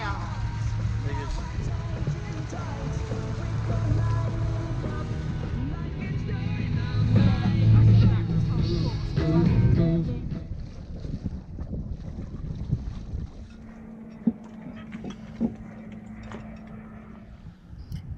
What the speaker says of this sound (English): There are quite a few ferries and they all do go quite quickly and they create quite a big wake